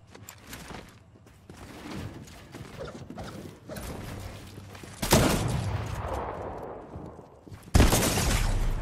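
Gunfire in the Fortnite video game: a loud sharp burst at about five seconds and another near the end, over a busy layer of game mechanism clicks and effects, with no talk.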